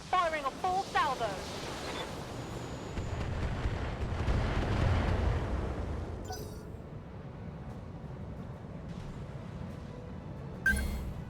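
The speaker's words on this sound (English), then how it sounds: "Firing a full salvo." A mech in BattleTech fires a full weapons salvo: a dense run of booming explosions and launches that swells and then tails off, with a couple of sharp bursts near the end and a voice talking over it.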